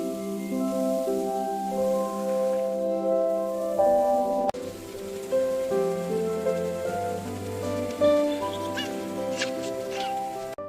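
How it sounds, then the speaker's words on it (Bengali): Rain falls in a Bengali cartoon, a soft steady patter running under bright melodic music for the whole stretch. "দেখো এই বৃষ্টি, কত সুন্দর লাগছে চারদিক"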